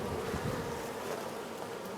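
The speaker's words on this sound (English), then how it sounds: "I want the bees to start smelling the scent inside the box" Bees swarm around a trap-out box set up at a colony entrance, a dense, continuous buzzing hum that stays steady and close throughout, with no voices.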